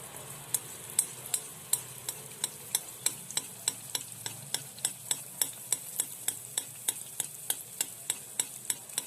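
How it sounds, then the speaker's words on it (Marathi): Anarse, a thin lacy Marathi sweet, fries slowly in oil over a low flame, a gentle steady sizzle broken by crisp regular ticks of a utensil tapping the pan about twice a second. "आता आपले आज सर्व अनारसे आपण तळून घेत आहोत."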